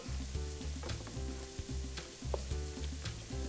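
Ground beef, lamb and onions browning in a pan for pastitsio, with a close, continuous sizzle and frying crackle and occasional stirring clicks, no talking.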